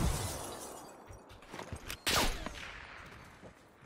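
LAPA submachine gun fire in Black Ops multiplayer, a short burst of rapid shots with sharp cracks and a loud peak near the middle, fading into background game noise.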